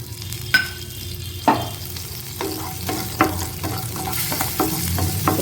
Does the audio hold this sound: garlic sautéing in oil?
yes